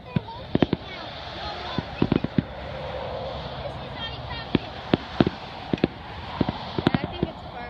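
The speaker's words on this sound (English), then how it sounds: "I think it's a fireworks show." Fireworks show exploding in the distance, a steady series of sharp cracks and pops spread over several seconds above a constant outdoor rumble.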